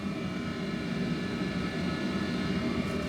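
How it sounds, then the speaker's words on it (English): A steady, broadband machine roar hums without a break, a constant whooshing motor drone with no voices, from a Harvey G800 Pro dust collector running. "that noise you're hearing is the dust collector running"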